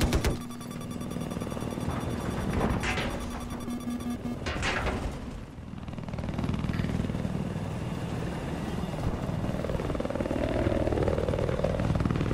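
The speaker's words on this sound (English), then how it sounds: "Hostile chopper spotted." Hostile helicopter in the Battlefield 4 video game, a steady whirring rotor and engine drone that persists throughout, with brief louder sweeps and game effects layered over it.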